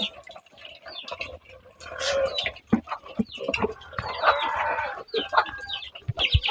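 Several chickens on a farm clucking and squawking nearby, with a rooster-like crow mixed in, busy and irregular.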